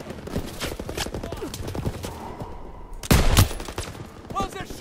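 Gunfire in a Call of Duty battle, with scattered shots and bursts through constant combat noise and a loud cluster of blasts near the end. Voices call out over the fighting.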